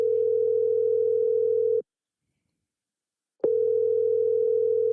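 A phone call rings out while the caller waits for an answer, heard as a loud, steady ringback tone that cuts off for about a second and a half and then resumes.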